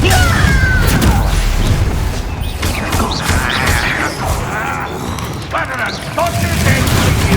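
Spell combat in Hogwarts Legacy on PS5: a Confringo blast and other explosive bursts crash and boom over continuous dense battle noise, with voices shouting throughout.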